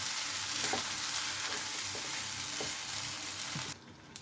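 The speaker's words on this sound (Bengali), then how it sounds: "এবার এটাকে ভালো করে কষবো" Spice paste with ginger and garlic frying in oil for ghugni, a steady loud sizzle with a few soft stirring knocks, cutting off abruptly near the end.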